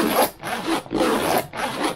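Chunky zips on a Savotta 4-litre MOLLE side pouch are pulled open and shut: four close, rasping strokes in an even rhythm with short gaps between them, and no voices.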